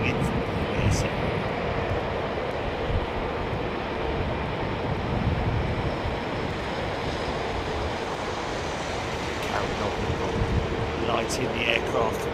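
Jet engine blast from an aircraft at London Heathrow Airport, a loud, sustained broadband roar with wind-like rush that holds steady throughout, with a few faint higher squeals near the end.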